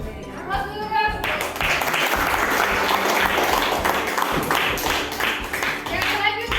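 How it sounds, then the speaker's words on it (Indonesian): Classroom applause, a sustained round of many hands clapping together, close and steady for several seconds after a brief spoken prompt. "Aplaus dulu dong."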